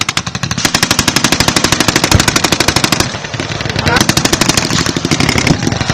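Rapid, sustained automatic infantry gunfire during a Bangladesh Army military exercise in Mymensingh, loud and continuous bursts with a dense rhythmic rattle, while a narrator speaks over it.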